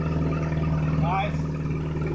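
Steady idle rumble from the exhaust of a 1998 Mitsubishi Eclipse GS with a freshly rebuilt engine and loose exhaust fittings, continuous and close, with someone talking over it.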